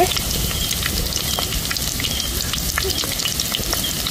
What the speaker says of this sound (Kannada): ಎಣ್ಣೆ ಬೆಚ್ಚಾಡು ಇತನಕ್ಕೆ ಬೆಳ್ಳುಳ್ಳಿ ಕುದಿನ ಪಾಡೋನ್ಗ